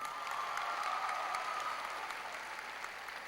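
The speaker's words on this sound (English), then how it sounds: "a tremendous round of applause, please, for our production specialist" A large audience at a high school graduation ceremony gives a round of applause. The clapping is dense and continuous, steady and somewhat distant, filling a big hall.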